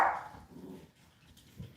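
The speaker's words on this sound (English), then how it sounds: "What are you barking at?" A household dog lets out a single sharp bark at close range, followed by a soft low whimper and a faint yip in an otherwise quiet room.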